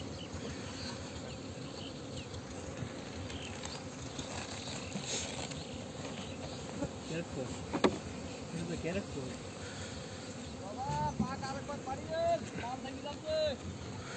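A swarm of bees drones steadily around a brand-new honeycomb on a honey-extraction site. Someone speaks over the constant buzz, and a few higher whines pass by.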